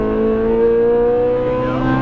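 A Ferrari 458 Italia engine at full throttle on a race track, a loud, close, sustained high-pitched wail that climbs steadily in pitch as the car accelerates.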